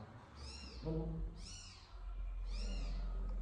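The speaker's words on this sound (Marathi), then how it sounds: "मांजरीचा आवाज येतोय काहीच, बघू शकतात." A cat meowing from behind a box in a college building, three drawn-out rising and falling meows at a moderate distance over a low background hum.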